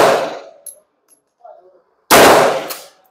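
Two sharp pistol shots fired at a humanoid target on a shooting range, spaced about two seconds apart, each loud and close with a short ringing decay and faint metallic clinks between them.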